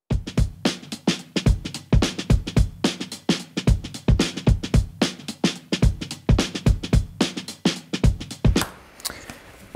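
A dry, unprocessed drum loop played alone: crisp kick and snare hits with ticking cymbals in a steady, repeating groove, close and punchy, ending in a brief noisy tail.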